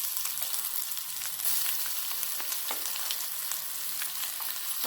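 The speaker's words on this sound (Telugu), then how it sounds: "దీన్ని ఇప్పుడు బాగా ఫ్రై చేసుకోవాలి. ఇట్లా పచ్చివాసన పోయేలాగా ఆయిల్లో ఫ్రై చేసుకోవాలి." Ground raw mango chutney fries in oil with a tempering of urad dal, dried red chillies and curry leaves, giving a steady close sizzle with occasional scraping stirs, alone without talk.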